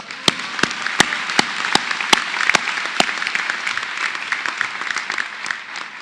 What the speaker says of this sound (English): One more round of applause for all our honor graduates